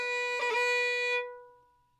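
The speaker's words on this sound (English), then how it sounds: "Rolls are ornaments that cover about the length of a quarter note." A fiddle plays a single sustained note with a quick roll ornament of fast fingered cuts near the start, in Irish traditional style, close and clear, then the tone rings and fades over the final second.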